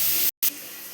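Onions slowly softening in a pan give a steady, fairly loud sizzling hiss, broken by a brief silent gap partway through before the frying resumes.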